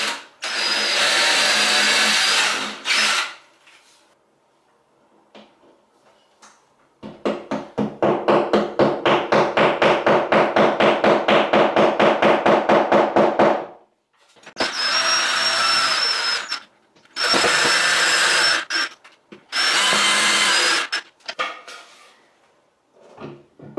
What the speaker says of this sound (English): So I'm going to go through, pre-drill, and put anchors in there because there's no studs at these spots.